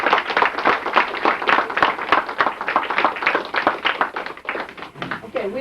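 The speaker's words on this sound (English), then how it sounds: "I would like to have everybody give these children of Noella a round of applause" Party guests at an 80th birthday celebration clapping together, dense steady applause close by and fairly loud for several seconds, with a voice briefly audible at the end.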